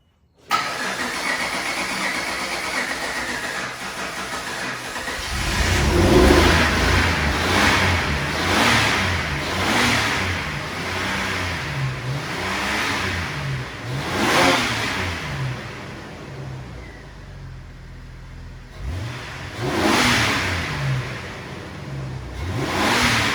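A Jeep TJ engine cranks and catches after a few seconds, then revs up and down in repeated surges before settling toward a rougher idle, close by.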